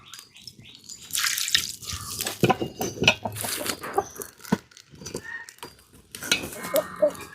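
Water splashes and drips into a pan in irregular bursts, close by, with short pauses between pours, while making village-style Aadi pori.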